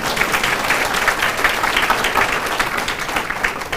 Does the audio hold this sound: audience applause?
yes